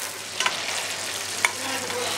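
Homemade meatballs frying in butter in a pan: a steady sizzle with faint crackle and a few soft clinks as the pan is swirled.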